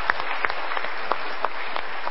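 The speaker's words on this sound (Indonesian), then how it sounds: "So kita berikan tepuk tangan dulu." Audience applause at an Indonesian motivational talk show, a dense wash of clapping with sharper individual claps standing out, steady and moderately loud for about two seconds.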